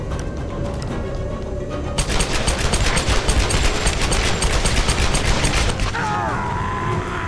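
Rapid, loud automatic gunfire bursts in the video game Tomb Raider (2013), a dense string of repeated shots lasting several seconds over game sounds.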